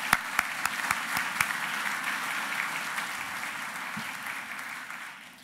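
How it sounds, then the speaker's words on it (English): Applause for CN representatives at a Halifax port keynote luncheon, starting with a few sharp, distinct claps that swell into sustained crowd clapping before tapering off. "Please join me in a little applause"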